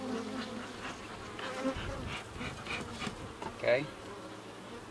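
Bees buzz around a horizontal hive in a close, continuous hum, and a voice speaks briefly over them.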